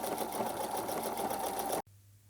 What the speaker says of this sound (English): If your machine can do an overcast stitch like mine can, you can go ahead and do that.